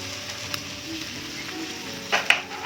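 Vegetables fry in a pan with turmeric, red chilli, cumin and coriander powders for a fish curry, giving a soft, steady sizzle. A spoon scrapes and clatters louder near the end.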